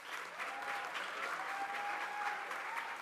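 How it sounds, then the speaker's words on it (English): An audience at a summer school closing ceremony claps steadily, a dense even wash of applause that holds for a few seconds at moderate distance. "Can we give them a big applause"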